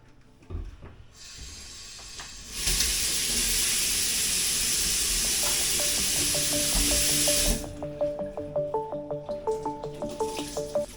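A cleaning spray used in a holiday cottage kitchen gives a long loud hissing burst lasting several seconds, followed by a rapid series of short dripping or ticking sounds.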